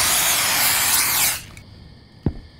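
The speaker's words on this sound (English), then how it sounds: "I need to spray some rats." A loud, steady hiss of poison spray in a convenience store video game runs for over a second and then cuts off, followed by quieter background hum and one short thud.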